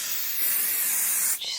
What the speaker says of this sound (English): Just going to do a little spray, you don't need much